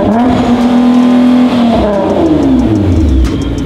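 Loud, close 2020 Corvette C8 engine revving hard, holding a high pitch before the revs drop away to a deep idle rumble.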